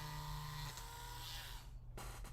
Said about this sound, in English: It's like the drill's just running away.